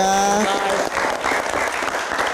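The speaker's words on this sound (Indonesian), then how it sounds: "kita berikan tepuk tangan sekali lagi untuk Adit Insomnia." Studio audience at a live Indonesian talk show claps for guest Adit Insomnia, a loud dense burst of applause filling the short moment, with a brief musical tone fading at the start.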